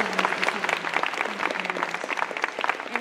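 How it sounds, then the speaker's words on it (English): An audience at a school healthcare career panel event claps for the presenters in a dense, steady round of applause lasting several seconds, with no voices over it. "I'd like to just end the evening just with a quick thank you and a round of applause to our spectacular"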